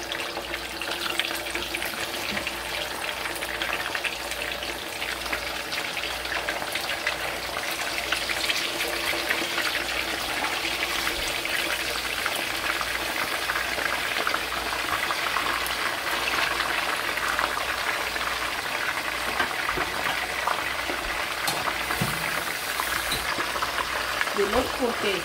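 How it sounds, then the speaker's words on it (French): Marinated fish frying in a pot of hot oil, a steady dense sizzle and crackle running continuously at close range with a faint voice underneath. "Maintenant, je commence par frire mon poisson."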